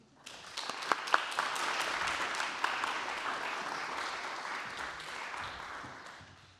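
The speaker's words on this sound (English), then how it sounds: "Anne Michaels, please give a round of applause" Audience applause at a poetry event as the poet comes up on stage, a few sharp early claps swelling into steady, moderately loud clapping that fades gradually toward the end.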